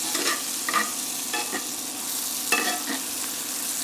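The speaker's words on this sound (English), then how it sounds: "I want that a little bit seared on that side a little bit more." Steak searing in a hot pan with red onions, a steady close sizzle and fry with occasional louder bursts as the meat is moved and stirred.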